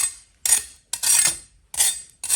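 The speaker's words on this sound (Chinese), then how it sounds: "大家可以听一下声音，那真的是嘎嘣脆" Crisp oven-roasted pork belly skin crackles as it is handled, in four sharp, loud bursts of crunching separated by short silences.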